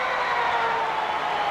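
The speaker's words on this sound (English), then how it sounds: "The siren in the background" Full-time siren sounding at Parramatta Stadium as a rugby league sevens match ends, a steady, sustained wail holding loud and unbroken throughout, with the stadium crowd's broad roar behind it.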